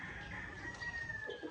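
Upgraded native chickens, hens with a rooster in a breeding pen, give faint, brief clucking and a thin crowing note, heard softly from a short distance with no talking.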